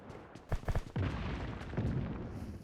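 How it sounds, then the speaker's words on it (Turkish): A bomb bursts in the PUBG Mobile game, with a couple of sharp cracks followed by a heavy, rolling boom that lingers and fades, loud and without talk. "Şöyle bir bomba bırakalım. Şöyle bir tane daha atalım."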